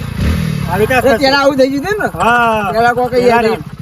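A motorcycle engine idles in neutral with a steady low throbbing pulse, heard close by during a riding lesson, while someone talks over it throughout.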